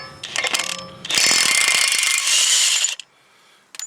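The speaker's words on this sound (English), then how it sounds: "Put that on our impact and make sure it's loosening." An impact wrench on a 30 mm 12-point axle nut of a 2005–06 Toyota Corolla XRS rattles loudly in two hammering bursts, a short one then a longer sustained run, before stopping.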